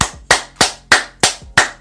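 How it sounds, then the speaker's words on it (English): Booty clapping sound effect: five sharp, loud slaps repeating in a steady rhythm about every third of a second, close and alone with no talk. "Booty clapping sounds."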